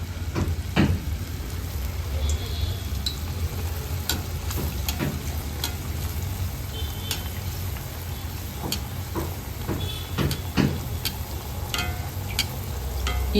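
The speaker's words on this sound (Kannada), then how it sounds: "ಎಣ್ಣೆ ಬಿಸಿಯಾಗಿದೆ. 1 ಸೌಟಷ್ಟು ಮಾಲ್ಪುರಿಯನ್ನು ಸೇರಿಸ್ಕೊಳ್ಳೋಣ." Rava malpua batter ladled into hot oil and frying with a steady sizzle, broken by scattered pops and crackles, close and fairly loud throughout.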